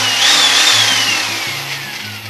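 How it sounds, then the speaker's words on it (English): A power drill with a paddle whines steadily up close in a bucket, its pitch sliding slowly as it churns through thick cement mix for a shower base. "For this one in here, we're just using a drill with a pallet"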